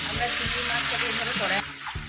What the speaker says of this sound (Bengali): এটাকে একটু হালকা ফ্রাই করতে দিয়েছি